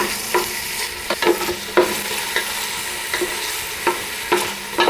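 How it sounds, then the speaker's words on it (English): Garlic and onions frying in a pan for a tilapia stew with cactus, a steady sizzle broken by repeated scraping stir strokes every half second or so, close and clear with no talk. "Brown a little bit, let the garlic get cooking, let the onions brown just a little bit"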